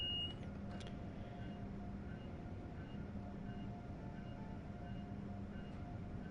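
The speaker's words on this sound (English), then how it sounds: "New Jersey transit train on the left-hand side, about to depart the station and go somewhere" A New Jersey Transit train sits at a station platform in Train Sim World 5, ready to depart: a steady low rumble and engine hum run unbroken at moderate level, with a brief beep-like tone near the start.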